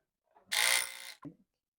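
A sewing machine stitches saree fabric into an Anarkali kurti panel in one short, close mechanical run, followed by a single faint click.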